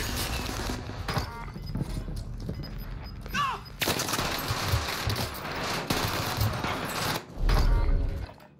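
Video game gunfire, a few sharp shots and bursts over a busy mechanical background, with a louder cluster of impacts near the end and brief talk mixed in.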